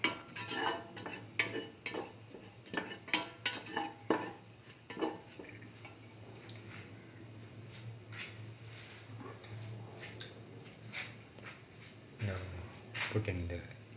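A spoon scrapes and knocks against a pot while a mung bean and ash gourd stew is stirred, giving quiet irregular clinks and scrapes with a soft sizzle beneath.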